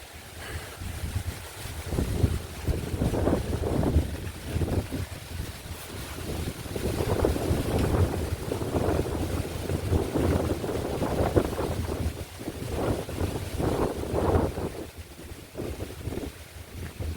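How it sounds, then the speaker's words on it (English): Steady wind gusting across the microphone outdoors among tomato plants, a low rumbling roar that swells and fades continuously with no voices. "A lot of wind is blowing"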